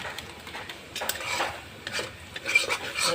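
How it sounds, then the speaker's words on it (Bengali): Spice paste of cumin, coriander and red chilli powder stirred and fried in a pan for a vegetable and kachki fish curry, with short scraping, rasping strokes of a spoon against the pan, close and unaccompanied by talk. "এবার মশলাটাকে ভালো করে কষে নেব, ভেজে নেব মশলাটাকে"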